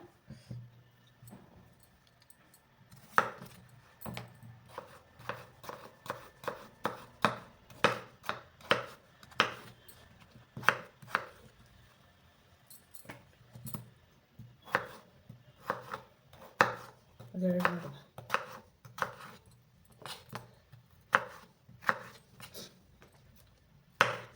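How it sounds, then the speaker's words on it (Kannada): Potatoes being chopped with a knife on a board for French fries, a long run of sharp, fairly regular close knife strikes, quick in places, with a faint low hum underneath and no talk. "ಇವಾಗ ಆಲೂಗಡ್ಡೆ ಹೆಚ್ಕೋತಾ ಇದ್ದೀನಿ"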